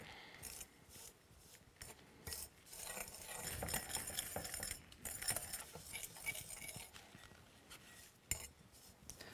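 Quiet scraping and clinking of a utensil stirring red food dye into a thick chalk paste, a steady rasping rub with occasional light taps against the container.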